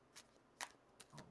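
Faint, quick riffling bursts of a tarot deck being shuffled, a few short flutters spaced irregularly, close by and quiet.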